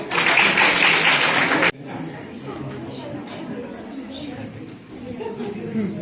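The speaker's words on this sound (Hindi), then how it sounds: "तालियां हो जाए" A quiz competition audience applauds a team's correct answer, a dense loud burst of clapping and chatter that cuts off abruptly after under two seconds, leaving a murmuring room with voices.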